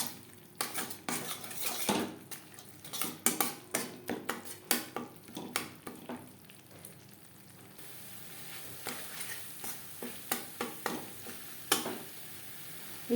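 A spoon scrapes and clatters against a pan while stirring coconut and spice masala for a vegetarian papaya curry, with repeated sharp metallic knocks and a soft frying hiss beneath.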